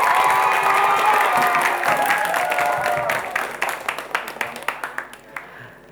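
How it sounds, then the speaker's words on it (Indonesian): Audience applause at a high school quick-answer quiz competition, loud at first, then thinning into a few scattered claps as it fades out. "Boleh kita berikan tepuk tangan kembali."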